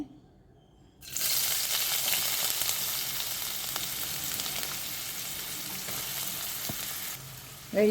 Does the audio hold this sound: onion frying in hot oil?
yes